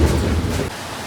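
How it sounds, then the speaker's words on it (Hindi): Rain pours outdoors at a bus stop in the UK, a loud dense rushing wash with a deep rumble that eases slightly near the end. "बारिश शुरू हो गई है"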